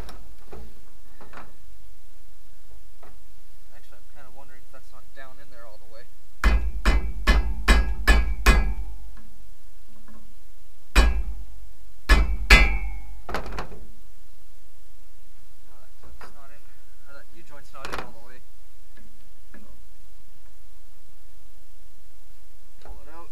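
A hammer drives a punch to knock out a vehicle U-joint, giving two bursts of sharp metallic strikes close by, about six quick blows and then four more, with quiet gaps and faint shuffling between them.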